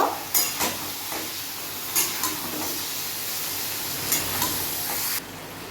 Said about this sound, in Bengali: এবার আমি সবগুলো একসঙ্গে ভেজে নেব